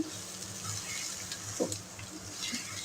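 Grated raw green mangoes fry over a low flame for a quick pickle, giving a steady, soft sizzle that runs the whole time with a brief stir-like clatter partway through.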